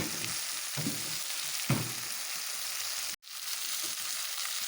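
Fish sizzles steadily with spices in a hot pan, with a few louder stirring scrapes. The frying cuts out for a moment, then resumes. No one speaks.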